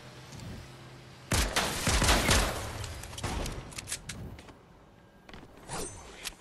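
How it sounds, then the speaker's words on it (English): Gunfire in Fortnite Chapter 4 Season 1: a burst of loud, close shots around the second mark, then scattered sharper reports and clatter trailing off through the rest of the clip, with no talk. "I just hear gunshots and I'm like, I'm gonna stay inside."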